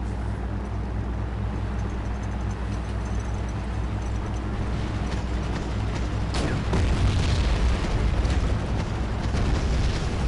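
A loud battlefield explosion in the strategy war game Wargame bursts out partway through, a deep booming blast with rumbling aftermath over a steady backdrop of low game noise.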